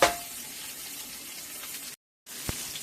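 Salisbury steaks brown in a pan with a steady, close hissing sizzle, briefly cut to silence and then resuming with a sharp tap.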